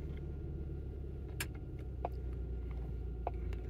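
A BMW engine idles roughly with one fuel injector disabled, a low uneven rumble heard close up with a few faint clicks and knocks over it.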